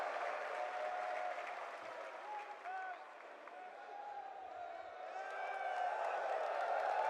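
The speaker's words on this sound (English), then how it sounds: "What a beautiful crowd we've got in Texas." Crowd applause and cheering fill an arena at the BLAST.tv Austin Major 2025 Counter-Strike esports event in Texas, a steady loud roar that swells toward the end, with a caster talking over it.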